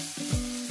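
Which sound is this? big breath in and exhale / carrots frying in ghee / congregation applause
carrots frying in ghee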